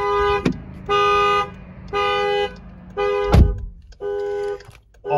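Car anti-theft alarm repeatedly sounding the horn in steady, evenly spaced honks, five loud blasts with short gaps, plus a sharp thud partway through.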